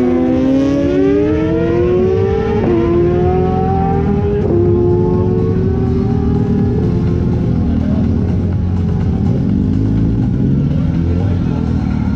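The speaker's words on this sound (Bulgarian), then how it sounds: "Доста добре подготвен автомобил в момента е на трасето." A drag racing car accelerates on the track at a motor drag racing championship in Vidin, Bulgaria. The engine pitch rises in a long sweep, drops at the gear changes and climbs again, loud and continuous, with crowd and announcer noise underneath.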